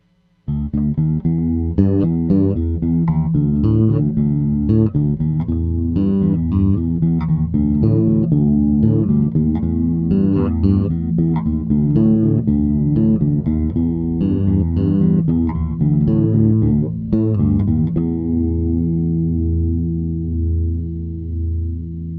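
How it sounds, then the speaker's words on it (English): Electric bass playing a groove through a shimmering chorus effect from a Cool Music modulator pedal, warm and wobbling, ending on a long ringing note that fades out. "Let's apply some classic chorus through the Cool Music modulator"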